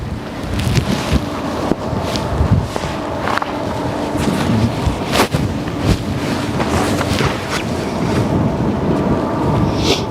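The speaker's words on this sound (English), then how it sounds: "I'm standing in the wind now, so it's a lot chillier." Strong wind buffets the microphone on the Westerschelde shore in the Netherlands, a steady broadband roar with gusty bumps and occasional low thuds that runs unbroken for the whole stretch, with no voices.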